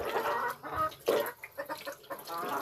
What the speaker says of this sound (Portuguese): O que é que esses galos tem hoje? Essas galinhas tem hoje?